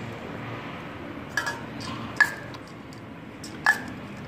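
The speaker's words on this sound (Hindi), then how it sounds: "अभी इसे चम्मच की मदद से मिक्स करके" A spoon mixing in a bowl, with a few faint isolated clinks of metal against the rim over quiet background hiss.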